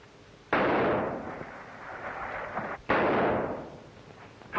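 Gunfire from a 1935 waterfront film, two heavy booming bursts a few seconds apart, each loud and abrupt with a long rumbling decay, no speech.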